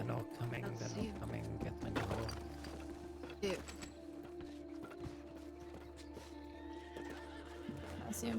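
Horse neighing and hooves clip-clopping in a western roleplay video game, a whinny standing out over steady hoofbeats, with other game sounds and quiet talk mixed in.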